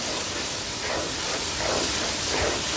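Eight to ten green chillies and a tomato being fried in a pan give a steady, loud, unbroken hiss of sizzling that holds evenly for the whole stretch with no voices.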